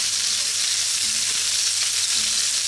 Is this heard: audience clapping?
no